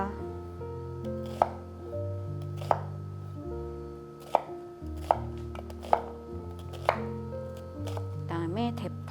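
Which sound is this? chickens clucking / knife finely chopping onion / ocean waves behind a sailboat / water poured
knife finely chopping onion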